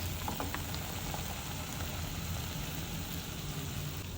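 Crumbled rotlo, a Kathiyawadi millet flatbread, tumbling into a hot seasoned pan of tempered ingredients, giving a steady close-up sizzle with a faint crackle throughout, no talking.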